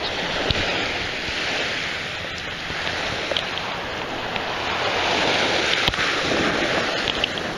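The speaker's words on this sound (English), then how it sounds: "So I'm on the beach" Surf rolling onto a Fort Lauderdale, Florida beach, a steady broad wash of breaking waves with wind buffeting the microphone throughout, no voices.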